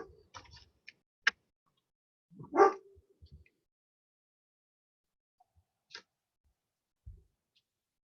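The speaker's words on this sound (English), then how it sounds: "while I attend to my barking dog" A dog gives a single short, sharp bark in an otherwise quiet room, with a few scattered clicks and taps before and after.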